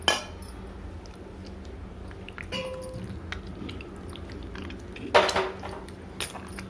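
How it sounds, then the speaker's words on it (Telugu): Peeled tomatoes are squished and mashed by hand for a tomato chutney. Soft, wet squelches come close and fairly quiet with irregular timing, along with occasional light clinks of utensils against a dish. "వీటిని ఇట్లా మెత్తగా స్మాష్ చేసుకోవాలి."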